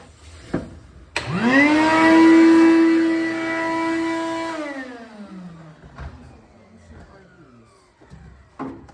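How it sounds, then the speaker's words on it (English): A vacuum cleaner motor starts with a thump in a car-build garage, spins up to a steady loud whine, runs for a few seconds, then winds down; faint clatter follows. "Somebody turned the vacuum on"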